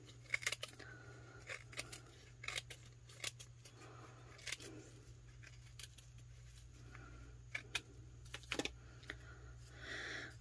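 A cocktail napkin glued onto a tumbler is trimmed with a blade in short, scattered snips and scrapes, each one close and quiet against a faint steady hum.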